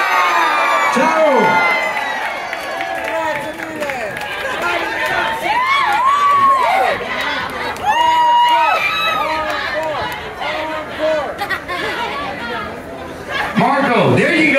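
A concert crowd at a live show in Salt Lake City cheers, whoops and chatters loudly, with scattered clapping and excited shouts rising and falling throughout.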